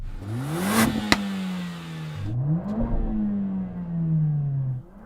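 A car engine revs up twice, rising then falling, with sharp popping crackles from the exhaust in between.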